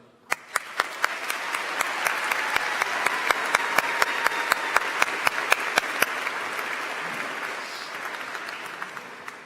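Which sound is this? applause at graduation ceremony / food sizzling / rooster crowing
applause at graduation ceremony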